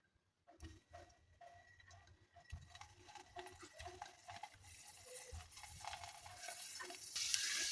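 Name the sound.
frying muthiya dumplings in hot oil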